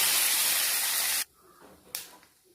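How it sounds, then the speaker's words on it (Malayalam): Curry leaves hit hot coconut oil with popping mustard seeds, giving a loud, steady sizzling hiss that cuts off abruptly, followed by a short second burst. "കടുക് പൊട്ടി വരുമ്പോൾ കറിവേപ്പില ഇടാം."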